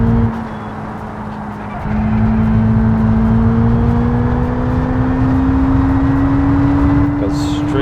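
Civetta Legrand, a 600-horsepower car in the BeamNG driving game, holds a steady bassy exhaust drone that climbs gradually in pitch as the engine revs, continuous and fairly loud with no pauses.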